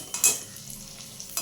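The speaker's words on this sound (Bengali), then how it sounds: "কিশমিশটাও তেলের মধ্যে ভেজে নিচ্ছি" Raisins sizzle softly in hot oil during poha snack preparation, with a couple of sharp spoon scrapes against the pan over a steady frying hiss.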